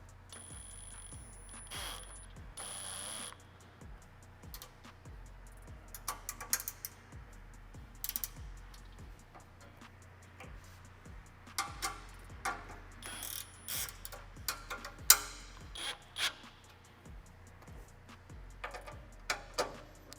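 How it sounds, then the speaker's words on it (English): A wrench ratchets 3/8 nuts onto a 4Runner rear bumper in short bursts of quick, faint clicking, with pauses and scattered metallic taps between the runs, close by. "finger tighten these before you crank them down with some wrenches or what have you"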